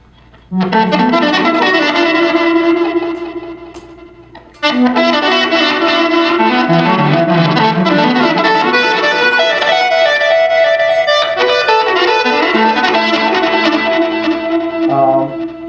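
Distorted electric guitar through a reverse delay effect swells in with a backward-sounding delay, loud and sustained, fading out once before surging back in.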